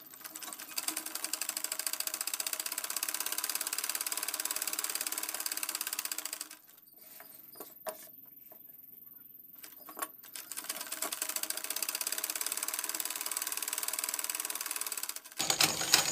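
Sewing machine running a straight line of stitching while a petticoat waistband belt is attached, a steady close mechanical whirr that pauses midway, quieter with a few taps, then resumes.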